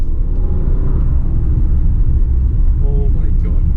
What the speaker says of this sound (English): Oh my God, this car is so fast.